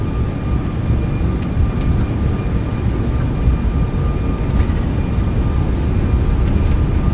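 Airbus A340-600 engines at takeoff power in X-Plane 12 make a continuous dense roar with a faint steady whine, unbroken and loud throughout.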